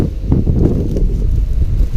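Strong wind buffets the microphone with a continuous deep roaring rumble, loud and close throughout, with no voices.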